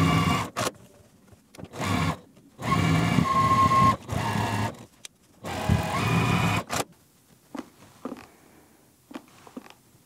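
A sewing machine stitching quilt block seams, running in several bursts of rapid whirring with short pauses between, close and fairly loud, ending with a few soft clicks and handling sounds.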